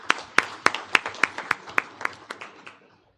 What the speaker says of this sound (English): Give him a big hand clap.